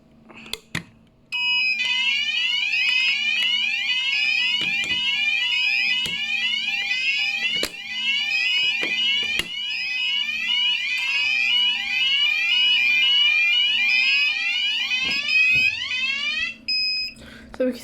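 A Fike Twinplex Pro fire alarm panel, triggered from a KAC call point, sounds a loud, continuous, rapidly sweeping electronic tone for around fifteen seconds, with faint clicks and a little background noise underneath.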